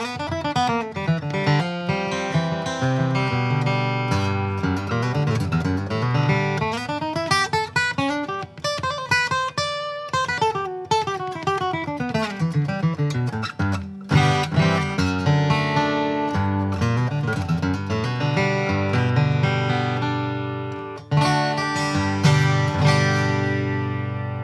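An acoustic guitar with a slow-growing cedar top and Brazilian rosewood back and sides plays a bluegrass passage. Strummed chords and runs ring out full and close, with no voices.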